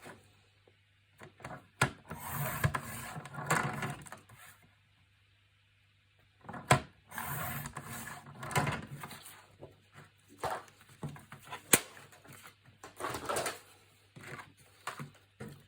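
A paper trimmer cutting strips of paper, a series of brief sliding swishes and clicks separated by silent pauses, close and fairly quiet.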